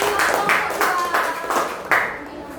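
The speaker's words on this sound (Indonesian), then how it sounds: "beri tepuk tangan" A small classroom group gives a short round of rhythmic clapping, about five distinct pulses of hand claps in unison, close and moderately loud.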